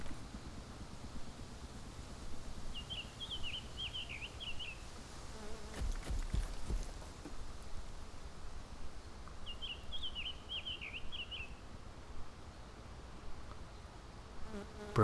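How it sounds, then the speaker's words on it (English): Flies buzz near a corpse in the DayZ video game, a steady close hum with a low outdoor background, while a bird chirps twice in short bursts. "Birds are chirping, flies are buzzing"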